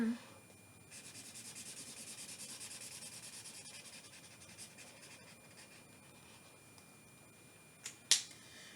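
A pen drawing a green square on paper makes a steady soft rubbing scratch for several seconds, quiet and close, fading toward the end before a couple of brief taps.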